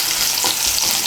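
Crushed garlic cloves frying in oil in a pan, a loud, steady, close hiss of sizzling with a faint stir partway through and no voices.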